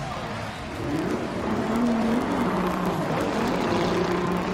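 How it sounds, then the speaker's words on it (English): Nissan S14 drift car at a drift competition in Malaysia, its engine misfiring as it rumbles past at low speed, a rough, uneven drone rising in pitch, heard from a distance with faint commentary underneath. "Sounds like he was misfiring."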